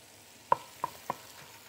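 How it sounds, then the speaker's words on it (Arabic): Onion frying in oil in a pan is stirred, giving three quick utensil taps against the pan over a faint, low sizzle, close by. "هحط البصل، هحط شويه زيت، ونحط بصله"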